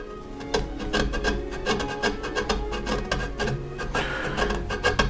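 A small rasp files a clamped wooden lattice fretwork piece on a workbench, giving steady rapid scraping strokes in a close, continuous rhythm with no talking.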